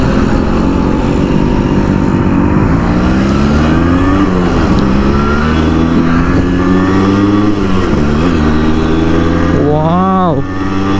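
A Yamaha RX 100 motorcycle being ridden, its two-stroke engine droning loudly and steadily, rising and falling in pitch through gear changes and ending with a sharp rev, while a rider talks over it.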